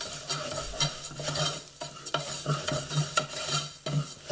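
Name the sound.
stirring bulgur and lentils with olive oil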